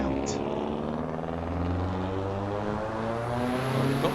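Turbocharged race car engine in the Assetto Corsa EVO driving game, a continuous droning whine with steady harmonic tones that hold and shift slightly in pitch, loud and close throughout with no pauses.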